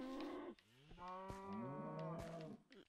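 Cattle lowing in the video game Minecraft: several drawn-out, rising and falling moos follow one another over a few seconds, close and clear with no talk.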